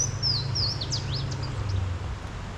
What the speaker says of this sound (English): I have no idea what sound or what type of bird that is.